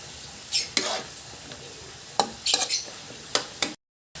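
A spoon scrapes and clinks against a pan while pinakbet vegetables (squash, long beans, bitter melon) are mixed with bagoong shrimp paste, a few sharp stirring knocks over faint sizzling.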